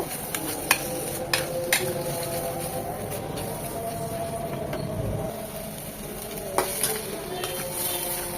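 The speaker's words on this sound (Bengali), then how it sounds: "মরিচ বাটাটাকে এক মিনিট ভেজে নেব" Ground chili paste frying in a pan while being stirred for a chepa shutki bhorta (dried fish mash), a soft continuous sizzle with occasional spoon knocks and scrapes against the pan, fairly quiet and without talk.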